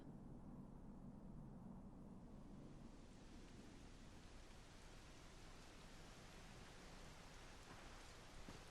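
Steady, dense rainfall in the video game Dragon Quest XI S hisses throughout, a continuous wash of drops with no breaks and no voices.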